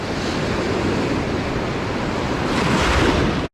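Ocean waves and swells wash in at the shore, a steady loud roar of surf mixed with strong wind buffeting the microphone, building slightly near the end.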